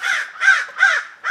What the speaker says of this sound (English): the crows are really perturbed tonight